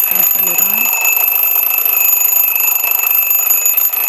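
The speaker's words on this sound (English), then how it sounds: "It is a nice loud sounding alarm." A loud, continuous electronic alarm from a vintage-style bedside alarm clock rings steadily with piercing high tones, sustained without pause throughout.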